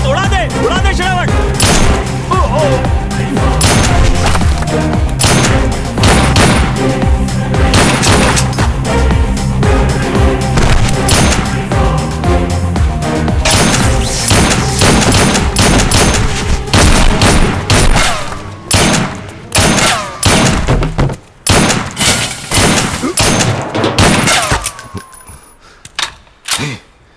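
Rapid bursts of gunfire and blasts crackle loudly and almost continuously through a thriller film shootout, thinning into scattered sharp shots and falling away at the end.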